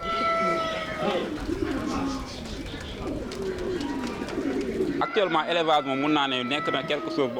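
Pigeons coo and warble nearby at an agricultural fair in Senegal, soft rolling calls over a background of voices, becoming clearer and more layered toward the end.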